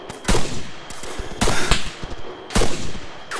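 Rifle fire in the video game Arma 3 comes in three separate loud bursts of rapid shots, each a sharp crack with a short decaying tail, with quiet gaps in between and no talking.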